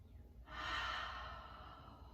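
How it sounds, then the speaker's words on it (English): A slow, soft breath drawn in and released during a calm relaxation exercise, heard alone and close with a quiet, airy rush that fades gradually. "Breathe in, and out."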